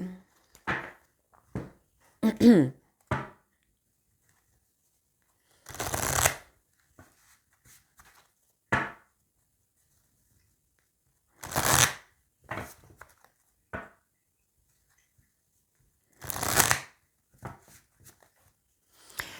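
Oracle of love cards being shuffled for a love reading, heard as several separate bursts of riffling and slapping card noise spread through the clip, fairly close, with quiet pauses between them and no voice.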